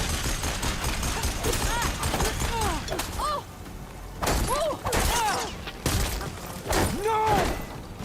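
Machine gun fire in Horizon Forbidden West, dense rattling bursts in combat amid game effects and music, while a player talks over it.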